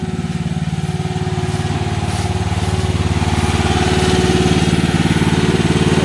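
A 1.5-ton mini excavator engine runs steadily during break-in, a loud, close, even diesel chug with a rapid rhythmic pulse that rises slightly in level over several seconds, with no talk.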